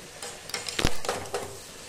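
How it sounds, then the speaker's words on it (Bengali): Slit green chillies stirred with a spoon in a cooking pan with a pinch of turmeric, while cooking data (stem vegetable) shoots; a few short scraping strokes and light clinks, close and fairly quiet. "কয়েকটা চেরা কাঁচা লঙ্কা দিয়ে এবার একটু নেড়ে নেব"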